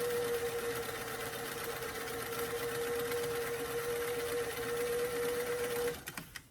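A sewing machine runs a zigzag finishing stitch across cotton fabric, a steady, rapid mechanical whir close up that stops abruptly near the end, followed by a few light handling clicks.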